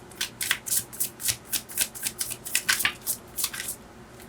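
Tarot cards being shuffled and drawn by hand, a quick series of soft papery riffles and flicks in an even rhythm, close and fairly quiet, with no talking.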